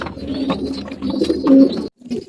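Pigeons coo continuously and close by on a morning early in the flying season, with a steady low throaty cooing that stops abruptly near the end before resuming briefly.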